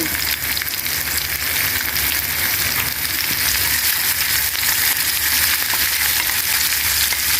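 Curry leaves, garlic and green chili frying in hot oil for a boiled egg curry, a steady loud sizzle that continues without break, with faint stirring underneath.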